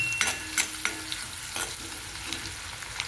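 Chopped garlic and chillies frying in a pan with asafoetida give a steady close sizzle, broken by spoon-against-pan clinks and scraping stir strokes.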